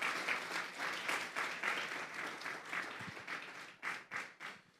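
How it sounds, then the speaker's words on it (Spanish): A church congregation claps during a sermon on Psalm 18, fairly quiet and somewhat distant, with the clapping thinning into a few separate bursts toward the end. "Démosle un fuerte aplauso pues al Señor."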